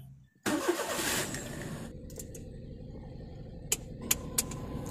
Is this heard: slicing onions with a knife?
no